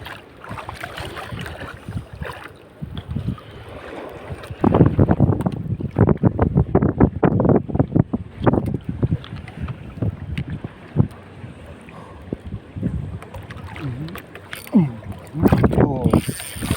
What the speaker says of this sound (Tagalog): Malaki ang gulong ng alon